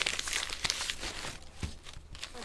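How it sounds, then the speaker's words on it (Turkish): A plastic bag holding crumbly çökelek cheese crinkles and rustles up close as it is tied, in irregular crisp bursts and soft thumps, with no one speaking. "Ve ben poşeti bağlıyorum böyle."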